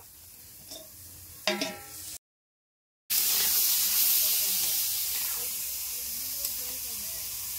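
Chicken and potatoes frying in a pan for a winter home picnic: a steady broadband hiss and sizzle, loud and close, after a brief burst of voices and a short gap of silence.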